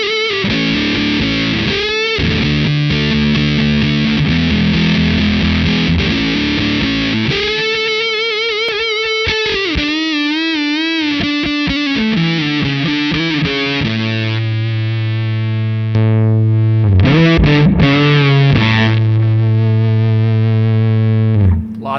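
Electric guitar through an Anasounds Full Story modular fuzz pedal with its clipping setting changed, loud saturated fuzz with sustained chords, gurgling vibrato-like notes and a boost in level toward the end, no talking.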